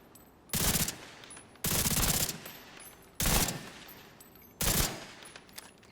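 Automatic gunfire at a shooting range in The Division 2, four loud bursts of rapid shots with short pauses between them, no talk during the shooting.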